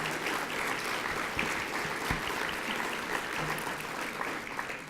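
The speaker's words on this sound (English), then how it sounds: "let's give these folks a round of applause for their leadership" Audience applause for an economic development board's directors and executive committee, a steady, dense clapping from a sizable crowd that holds at an even level throughout without voices.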